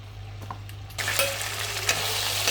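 Marinated chicken drops into hot oil, and after a quiet hum with a few small clicks, a sudden loud broadband sizzle erupts near the one-second mark and keeps crackling steadily up close, with no talking.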